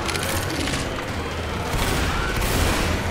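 A grenade launcher blast in Left 4 Dead 2 sets off a dense, continuous roar of explosive booms and rattling gunfire. The sound is loud and sustained for the whole stretch, with no clear gaps.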